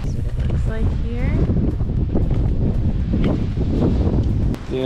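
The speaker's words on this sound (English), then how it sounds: "Super windy." Loud, strong sunrise wind in Turks and Caicos roaring and buffeting the microphone, constant and close, with faint voices partly buried underneath.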